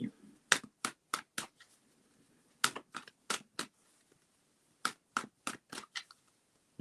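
A deck of tarot cards shuffled by hand in quick riffling bursts, with two clusters of sharp flapping snaps separated by a pause, close and fairly quiet against a silent room.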